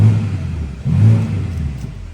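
A BMW G80 M3 engine with its exhaust valves fully open revs low in the rev range, a deep throaty rumble swelling twice over a couple of seconds, close and loud with no talking.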